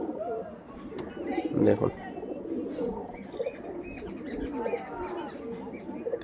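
Soft cooing of high-quality pigeons of an original Mangalgiri line, close and low, with occasional faint chirps beneath someone talking throughout.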